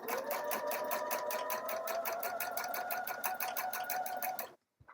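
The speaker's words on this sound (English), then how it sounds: "I'm going to follow right along the old stitch line from the waistband" A sewing machine stitches along an old waistband seam line of a refashioned skirt, running in a fast, steady, even rhythmic whir up close for several seconds before stopping abruptly, with no talking.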